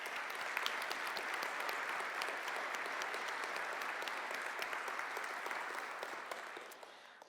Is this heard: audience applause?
yes